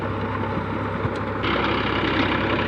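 A steady, close engine rumble comes from a tractor working with a rotavator, thick and throbbing, growing a little louder and rougher partway through, with no voices over it.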